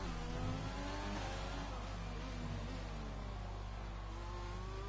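A McLaren Formula race car goes by on the Mexico circuit. The engine note is high and whining, rises and falls as the car passes, and stays steady and fairly close over a continuous low hum.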